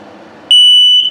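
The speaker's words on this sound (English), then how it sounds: "and it's beeping very slowly" A single loud, piercing electronic beep from a gas and carbon monoxide detector with a low battery in a 2020 Flagstaff E-Pro 19RD camper cuts in after a moment of low background noise and holds for about half a second.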